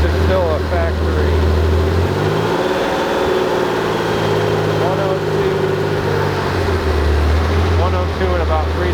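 Porsche 911 of the 964 generation fitted with a Cargraphic exhaust, its engine rumbling loudly up close with a deep throb that rises and falls as it is revved, while a voice talks over it.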